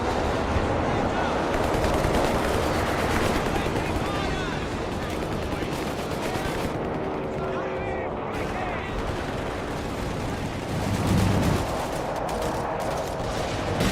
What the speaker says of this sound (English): this is machine gun there.